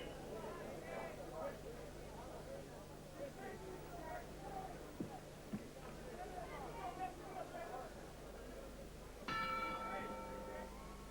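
Boxing bell ending the first round of a professional fight in Las Vegas, a bright ringing strike near the end, rising over steady arena crowd murmur and commentary-like voices.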